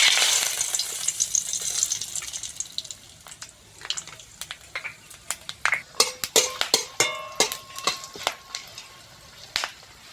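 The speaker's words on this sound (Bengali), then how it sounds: "ওই ঘিয়ের মধ্যে তেজপাতা, গোটা গরম মশলা, স্টার, বড় এলাচ আর জয়িত্রী দিয়ে দেবো।" Bay leaf, whole garam masala, star anise, black cardamom and mace frying in ghee for chicken pulao, with soft sizzling and a scatter of sharp crackles and pops, close and alone.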